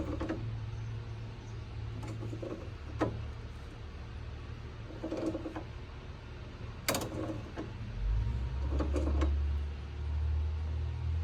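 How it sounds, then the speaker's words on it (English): A 1990s Cushman Truckster engine is turned over slowly by hand with a wrench on the alternator nut, giving sparse, soft mechanical clicks and creaks over a low steady hum. "Try and get on this alternator nut here and just see if it'll spin over nice and easy."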